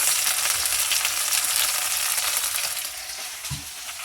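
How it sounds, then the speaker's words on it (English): Chopped green chilies hit hot oil in a pan for a vegetable pulao, producing a loud, bright sizzle that slowly settles, with one soft knock near the end. "Adding the chopped green chilies."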